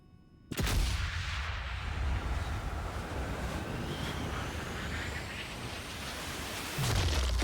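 A rifle shot from the video game Sniper Elite 5 cracks in sharply and leaves a long, loud rumbling echo like rushing wind, followed by a second heavy thump near the end.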